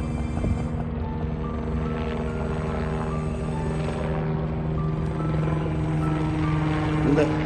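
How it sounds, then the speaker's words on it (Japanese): A helicopter passes over a fishing spot, its steady rotor drone holding at moderate loudness through the whole stretch, with faint chatter and outdoor ambience underneath. "ヘリコプターも飛んできますね"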